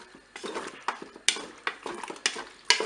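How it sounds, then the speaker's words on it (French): A spoon stirring cream and mustard into salmon and zucchini in a Cookeo pot, giving a series of wet scrapes and sharp metallic clinks at a steady pace, close and fairly quiet. "On mélange."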